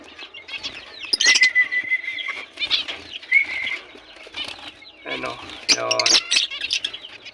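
Young kapagaw bulbul fledglings in a cage give sharp, high chirps and calls mixed with bursts of fluttering wings, close and fairly loud, in uneven clusters.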